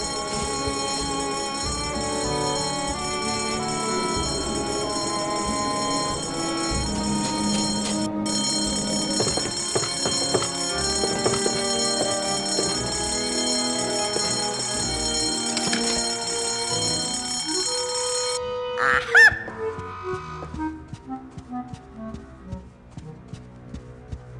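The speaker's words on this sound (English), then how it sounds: "False fire alarms cost lives." A fire alarm bell rings continuously in the video game Escape from Monkey Island, loud and steady over game music, then cuts off abruptly near the end, followed by quieter clattering sounds.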